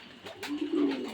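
A pair of tiger-coloured Syrian shafer pigeons give a short, rising, throaty coo, close and moderately loud.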